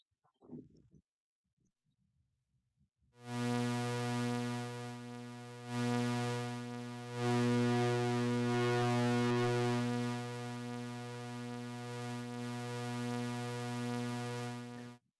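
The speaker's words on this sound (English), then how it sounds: "So when I'm overdriving it, I'll turn up the master gain and then turn up the knob that has the feedback loop" White noise from a modular synth mixer patched into its own feedback loop and overdriven, producing a harsh, dense buzzing drone that starts abruptly after a short quiet gap and holds steady, swelling slightly partway through.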